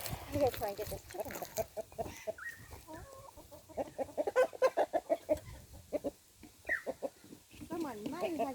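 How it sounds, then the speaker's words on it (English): Chickens clucking in a backyard coop where guinea fowl are also kept, with repeated short calls scattered through the clip under nearby speech. "I'm going to try and get this chicken."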